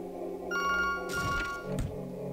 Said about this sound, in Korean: 어, 전화 왔다.